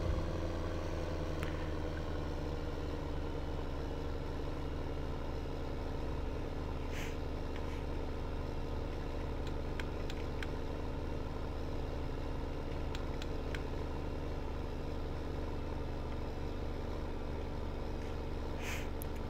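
A Steyr 6230 CVT tractor engine from a farming game mod hums in a steady, even drone throughout, faint and unchanging with a few light clicks.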